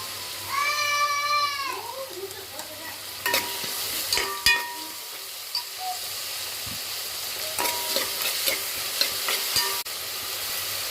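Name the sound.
sautéing onions in a pan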